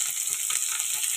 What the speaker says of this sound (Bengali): তো আলু একটু হালকা করে আগে ভেজে নেব